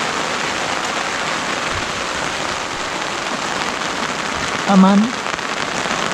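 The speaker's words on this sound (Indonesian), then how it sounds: "Hujan udah setengah jam. Iya, Besar hujannya." Heavy rain pours on a mountain trail on Mount Gede, a dense steady hiss of drops on surfaces filling the whole stretch, with a brief voice speaking near the end.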